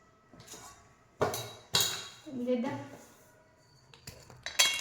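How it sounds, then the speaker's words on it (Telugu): Sharp knocks and clinks as jaggery is cut in a home kitchen, several separate hard strikes spaced a second or so apart, with someone talking between them. "బెల్లం కట్ చేసుకుంటున్నా"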